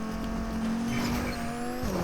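A car engine in Fortnite holds a steady, loud drone with a bright harmonic, then drops in pitch near the end as it shifts or slows, with a faint tire squeal over the top.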